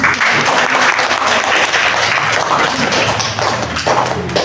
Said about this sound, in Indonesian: Tepuk tangan buat Yuyun.